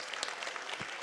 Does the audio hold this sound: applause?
yes